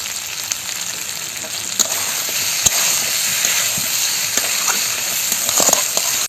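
Ivy gourd and potato frying with spices in a pan, a loud continuous sizzle with occasional clicks and stirring scrapes close by.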